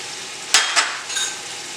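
Ginger garlic paste being fried and stirred for a mixed mutton, chicken and fish curry; a steady soft sizzle runs throughout, with two brief louder stirring scrapes near the middle and no talking.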